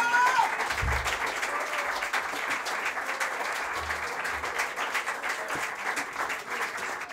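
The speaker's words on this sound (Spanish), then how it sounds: "Un saludo y un aplauso para ustedes por estar acá" An audience at a live show applauds steadily, a dense wash of clapping that holds at a fairly even level throughout, with a few brief voice sounds mixed in.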